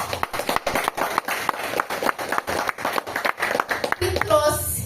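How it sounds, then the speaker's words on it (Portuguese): A crowd claps together in quick, lively applause, close and steady, with some voices mixed in before it fades into other sound at the end. "eu quero que você dê uma salva de palmas para esse homem aqui"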